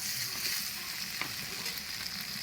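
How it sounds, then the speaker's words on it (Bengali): Fried cauliflower manchurian stirred in a pan, producing a soft, continuous sizzle with light scraping ticks, quiet and close, with no voices. "এরপর আমি ভেজে রাখা ফুলকপির মাঞ্চুরিয়ানগুলো দিয়ে দেব দিয়ে নাড়াচাড়া করে নেব"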